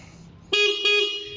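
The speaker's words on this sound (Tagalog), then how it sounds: "stock horn yung gagana, at pag naka-on, yung loud horn naman yung gagana" Two short toots from the stock horn of a Suzuki Ertiga, close and loud, the second following quickly after the first.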